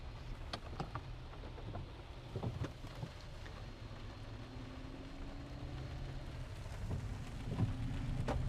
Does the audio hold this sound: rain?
yes